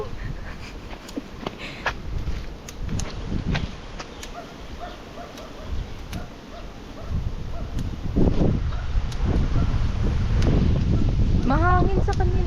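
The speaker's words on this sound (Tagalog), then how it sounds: "Mahangin sa kanila. Dito ang hangin." Outdoor wind in Aparri, Cagayan, gusting and buffeting the microphone in low rumbling bursts that strengthen toward the end, with people talking throughout.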